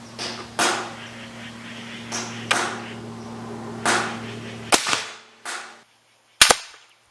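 A Benjamin Pioneer Airbow, a pneumatic arrow gun, fires arrows with sharp, loud cracks spaced a couple of seconds apart over a steady low hum, ending with a final crisp shot after a brief silence.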